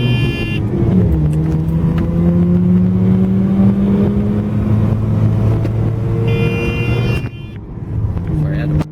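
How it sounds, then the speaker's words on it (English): A 1984 Mazda RX7 GSL-SE rotary engine revs wide open toward its 7,000 RPM limiter, a loud, rising whine climbing steadily, dipping briefly, then climbing again before the throttle lifts, heard from inside the car. "I'm going to blow this engine wide open, okay, so you guys can hear it"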